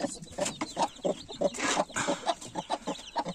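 A turkey hen clucks with her chicks in a short, busy run of soft, repeated calls. The sound is close and fairly loud, with no talking.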